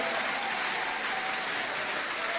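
A congregation applauds and cheers for God at a church gathering, a dense, steady wall of clapping throughout.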